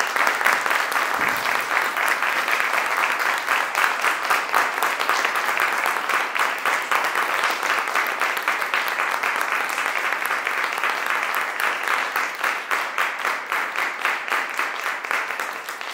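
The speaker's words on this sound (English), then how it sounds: "we can all have another round of applause" Steady, sustained applause from an audience after a 2020 piano recital by Hayesfield Girls' School pupils, a dense even patter of clapping lasting throughout without talk.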